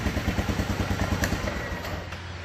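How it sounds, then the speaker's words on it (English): Four-wheeler ATV idling outside a small engine shop: a rapid, even low chugging pulse with light mechanical clatter, close by, easing off toward the end as it winds down. "I need to shut this four-wheeler off."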